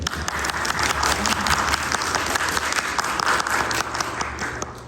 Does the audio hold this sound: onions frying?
no